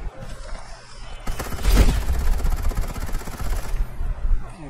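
Gunfire from the video game Farlight 84 comes as a dense, rapid burst lasting a couple of seconds, loud and sustained, with quieter game ambience before and after.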